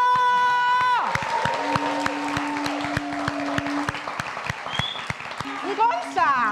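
A crowd claps at a launch event, sharp individual hand claps spread through the clip amid cheering voices and people talking, with a sustained tone at the start and mixed crowd noise throughout.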